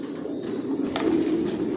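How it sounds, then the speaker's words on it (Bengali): Racing pigeons of the Johnson line, kept as master breeding pairs in a loft, give low, throaty coos close by, a steady murmuring drone with a faint chirp over it. "এখানে যে এই কবুতরগুলো দেখতেছেন এগুলো মাস্টার পেয়ার, রানিং পেয়ার"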